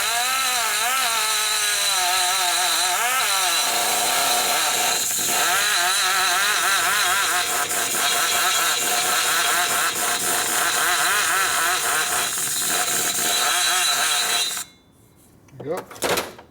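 A grinder with a smoothing bit works a 1966-74 Harley shovelhead cylinder head under repair for a blown head gasket, giving a loud, steady high-pitched whir that runs nonstop for about fourteen seconds, then cuts off abruptly with brief quieter sounds after.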